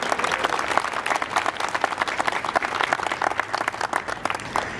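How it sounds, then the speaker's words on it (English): An audience at a Veterans Day commemoration in Oxnard, California applauds guests with a dense, steady round of clapping from many hands that holds for several seconds. "let's just give them a round of applause very quickly"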